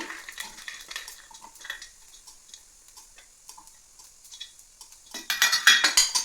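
Whole garam masala spices and cashews fry in a pan with light, quiet ticks and stirring clinks, then turn into a louder, busier sizzle and clatter near the end.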